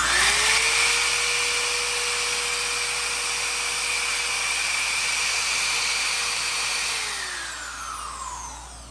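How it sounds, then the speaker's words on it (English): A steady high-pitched motor whine of a Craftsman power drill running continuously on solar battery power, spinning down near the end, with no talking. "How about a Craftsman drill?"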